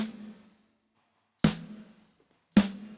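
Snare drum from the MODO drum plugin layered with a Monster Synth layer: two sharp, bright hits with a noisy crack and a short tonal body, following the tail of an earlier hit, each decaying within a few tenths of a second.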